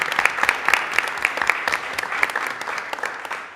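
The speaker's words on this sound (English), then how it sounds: "let's give both of these amazing entrepreneurs a round of applause" An audience at a school district committee meeting applauding two young entrepreneurs, with dense, lively clapping close by that gradually thins out toward the end.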